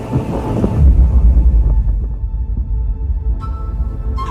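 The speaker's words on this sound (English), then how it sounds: "Rumbling thunder rolls through the distance," Deep thunder rolls over a South American rainforest, swelling into a loud, low rumble that slowly fades into a softer, distant growl.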